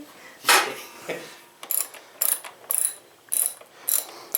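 Ratchet clicking in short bursts while loosening the front wheel axle of a Honda Rebel 250, about six quick ratcheting strokes close by, with a couple of duller knocks at the start and no talking.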